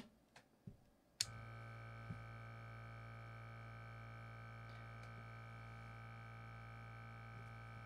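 PurWick female external urine collection catheter pump switching on with a click, then running as a steady, very quiet low electric hum with a faint tonal whine, heard up close with no talking.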